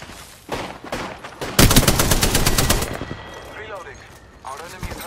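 Rapid automatic gunfire from an Apex Legends match crackles in dense bursts, with a long sustained volley in the middle and scattered shots before and after, loud and close, with faint game voice lines underneath.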